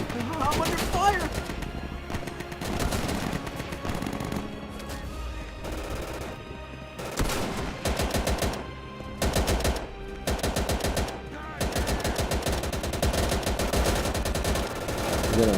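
Sustained gunfire from the Easy Red 2 war video game on Xbox, dense rapid bursts of automatic fire and shots that roll on with brief lulls, loud and continuous for the whole stretch.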